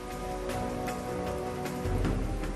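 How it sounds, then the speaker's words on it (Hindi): Heavy monsoon rain and strong wind lash Vadodara around the Sursagar lake, a dense steady roar of rain on surfaces with low rumbling gusts, continuous and fairly loud with no talking. "भारी बारिश और तेज हवा से वडोदरा शहर में त्राहिमाम मच गया"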